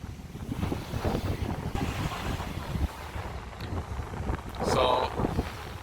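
Steady wind buffets the microphone at a beach on the Mornington Peninsula, Victoria, on a 28-degree day, with surf rumbling underneath and a louder gust swelling near the end.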